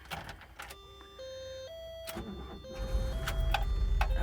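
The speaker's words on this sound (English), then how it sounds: "we will start the van" A Volkswagen Vanagon Westfalia van being started, faint and close: whirring electrical tones and clicks give way to a low engine rumble that builds and settles toward the end.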